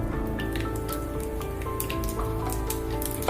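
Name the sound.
mustard seeds spluttering in hot coconut oil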